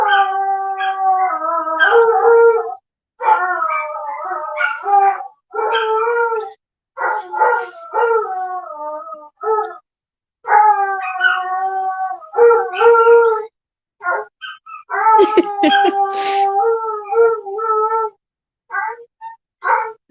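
Several dogs at home howl together in long, wavering, overlapping tones, rising and breaking off in bursts with short pauses, close and loud and with no talk.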